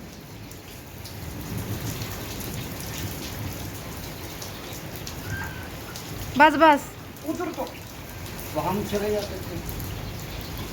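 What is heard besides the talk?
heavy rain falling at night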